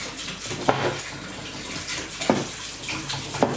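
Running water pours steadily in a sink while hands are washed with soap, with a few brief clattering knocks on top and no voices.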